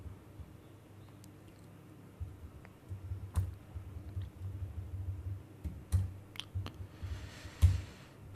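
Keys clack on a computer keyboard while PHP code is being written, quiet irregular taps and clicks with a few louder strikes over a low steady hum.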